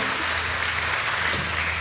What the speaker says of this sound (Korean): 박수 한번 주세요 그러면.